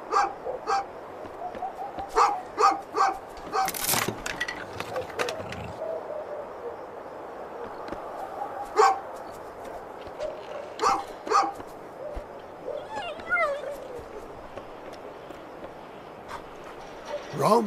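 A dog barks and yips repeatedly in the game A Juggler's Tale, sharp bursts recurring across a busy, continuous game soundscape with a narrator's voice also present.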